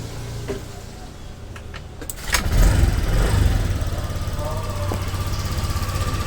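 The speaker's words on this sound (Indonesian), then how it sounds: "Lalu kita nyalakan motornya." A motorcycle engine is started with the ignition key switched on: a few clicks, then the engine catches near the halfway point and settles into a steady, close idle.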